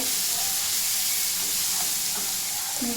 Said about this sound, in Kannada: ಸ್ವಲ್ಪ ಈರುಳ್ಳಿ ಸ್ವಲ್ಪ ಎಣ್ಣೆಲೆಲ್ಲ ರೋಸ್ಟ್ ಆಗಲಿ.